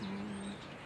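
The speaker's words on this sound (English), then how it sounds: "Like, listen to the birds right now." A bird gives a soft, steady cooing call outside on a quiet residential street, a single sustained low tone, faint and distant, that ends about halfway through.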